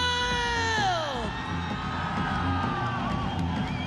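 A live crowd at a ONE Championship martial arts event in Ho Chi Minh City, Vietnam, cheers and whoops for a fighter's introduction, with a steady roar of applause, an announcer's music-like tones fading early, and crowd noise throughout.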